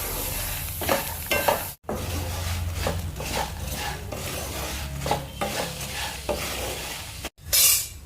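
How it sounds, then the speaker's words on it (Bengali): Masoor dal badi frying in hot mustard oil in a kadai, a steady close sizzle with repeated scraping stirs of a spatula against the pan and occasional clinks of metal. "এই বড়িগুলো মা লাল লাল করে ভেজে নেবে।"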